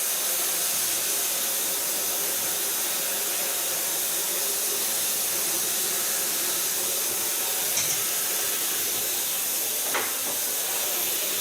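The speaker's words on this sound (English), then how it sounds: "Using my blow dryer as the wind." A steady, loud blowing hiss of a hair dryer runs without a break, broadband and constant, with no voices over it.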